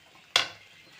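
Spices are stirred into kalan frying in a kadai: a single sharp scrape and sizzle bursts out, then fades quickly into a faint crackle.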